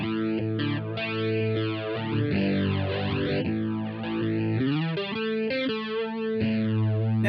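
Guitar played through an Eventide Rose delay pedal preset, with sweeping, swirling modulated repeats that rise and fall in pitch continuously over sustained chords, loud and constant with no talking.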